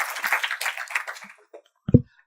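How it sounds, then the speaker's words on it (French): Brief applause for a project manager at an app launch evening in Montargis: a quick, dense patter of hands that tapers off within a second, followed by near silence and a lone low thump. "Applaudissez-la, s'il vous plaît, parce qu'elle est chef de projet sur CITIC."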